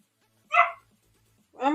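Puppies bark at close range: two short, sharp yipping barks separated by a quiet pause of about a second, with no talking.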